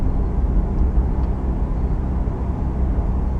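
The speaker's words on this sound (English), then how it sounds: "You can hear the intake, you can hear the turbo a lot more through the intake." Steady, loud low-pitched drone from inside a modified 2015 Subaru WRX Stage 2, with exhaust and turbo intake noise heard while driving, continuous with no talking.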